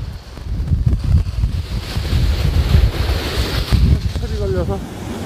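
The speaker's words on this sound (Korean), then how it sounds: "아, 왜 갑자기 바람이 있어?" Wind gusting across a seaside rock during black sea bream fishing, a steady roaring rumble near the microphone, with surf noise beneath it and a brief faint voice near the end.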